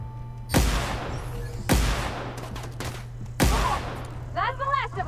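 The player's gun fires in the video game The Outer Worlds during a fight at a Marauder encampment: three loud, sharp shots spaced over a few seconds, each with a rumbling decay, followed by brief warbling game voices.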